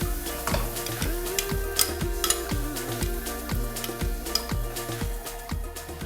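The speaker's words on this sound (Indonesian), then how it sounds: "kita tumis bumbu halusnya sampai berubah warna. Kita akan masukkan ayamnya." Chicken and ground spice paste for ayam woku sauté in a hot wok, a steady sizzle with scattered stirring clinks running under prominent background music.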